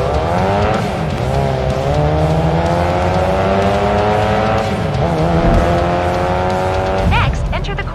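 A race car engine in the mobile racing game Racing Master holds a steady, loud rising whine at the start, with a brief burst of tire screech near the end and no speech.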